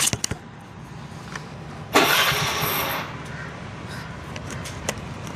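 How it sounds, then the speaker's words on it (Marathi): A vehicle engine cranks and catches with a sudden loud burst of revving, then settles toward idle, with a few sharp clicks before and after. "मी गाडी स्टार्ट करत आता"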